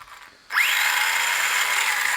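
A cheap brushless-motor WLToys RC car revs hard, its motor and spinning wheels rising abruptly into a loud, steady high-pitched whine that holds without letup.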